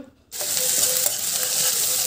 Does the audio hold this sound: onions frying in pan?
yes